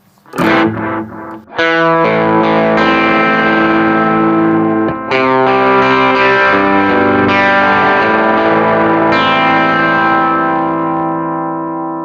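Electric guitar played through an analog delay effect on a NUX Mighty Plug amp modeller, distorted chords and notes ringing out with trailing repeats, loud and sustained.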